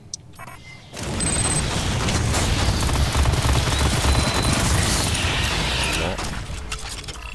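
Rocket launcher fire and explosions in the Aliens: Fireteam Elite game, a dense continuous roar of blasts and gunfire lasting several seconds after a sudden onset, loud and close, with players talking over it.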